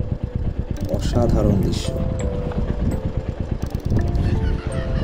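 Motorcycle, a Meteor 350, riding through the Ladakh mountains, its engine thumping steadily with a pulsing exhaust note and wind rush, while someone speaks over it briefly.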